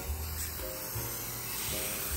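Cooking oil sprayed onto food before it goes into the oven, a continuous breathy hiss that holds steady throughout, with faint rumbling background noise and no talking.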